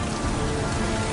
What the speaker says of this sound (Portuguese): em Titã, a chuva não é de água, mas de metano líquido que cai lentamente